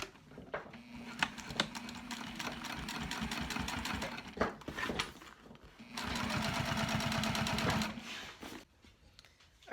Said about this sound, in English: So I'm going to slide over that thick seam and just start sewing again